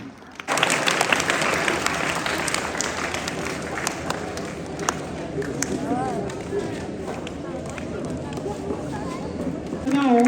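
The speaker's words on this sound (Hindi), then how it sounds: "सभी ताली बजा के स्वागत करें" Students and staff at a school Teacher's Day event applaud to welcome their teachers, a thick continuous round of clapping that begins abruptly, with scattered voices and shouts breaking through near the end.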